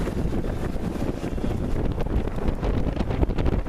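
Steady wind buffets the microphone aboard a sailboat making about 6 knots in roughly 16 knots of wind over choppy water, a continuous broadband rush with no pauses.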